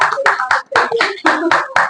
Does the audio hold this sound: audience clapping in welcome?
yes